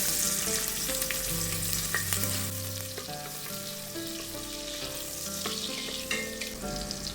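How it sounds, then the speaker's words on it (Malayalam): Coconut pieces crackle and sizzle steadily in hot oil, with some stirring, under gentle background music. "ഇതിലേക്ക് ആദ്യം തന്നെ ഞാൻ തേങ്ങ ഇട്ട് കൊടുക്കുകയാണ്."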